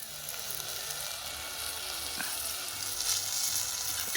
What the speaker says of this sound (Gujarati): અને હવે આપણે નાખી દેવું પાણી